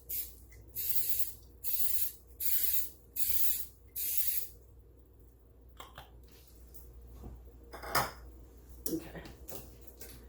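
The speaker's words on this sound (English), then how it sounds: "I'm going to go ahead and spray my muffin tin." Five short bursts of hissing cooking spray come in a steady rhythm onto a metal muffin tin, followed by light clinks and rattles of the tin.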